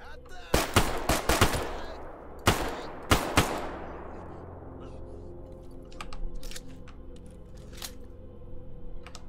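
Gunfire from a firefight in STALKER GAMMA, several sharp, loud shots in quick clusters with echoing tails that fade into a low ambient hum, followed later by fainter distant pops.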